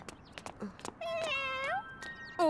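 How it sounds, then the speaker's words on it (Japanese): A cat in a children's animated series meows clearly, giving a long drawn-out mew with a few short sounds around it and another cry starting at the end. "お、猫だ。"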